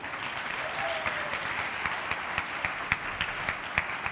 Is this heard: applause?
yes